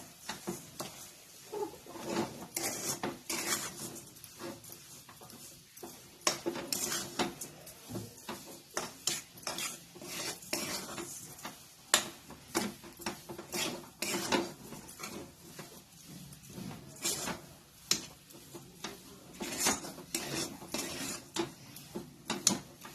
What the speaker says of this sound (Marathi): आता हे चांगलं मिश्रण हलवून घ्यायचं।